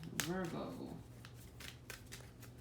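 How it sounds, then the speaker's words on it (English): Rune cards are given a quick shuffle, a brief flurry of close papery riffling followed by a few sharp card taps and clicks, with a voice briefly audible at the start. "Let me do a quick shuffle."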